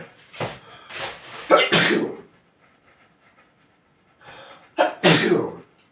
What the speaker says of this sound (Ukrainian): як людина пчихає